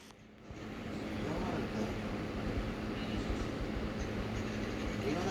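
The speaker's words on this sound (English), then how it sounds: "The train." A train rumbles continuously, a broad, steady roar that rises within the first second and holds at an even level with no clear pauses.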